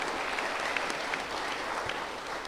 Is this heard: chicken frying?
no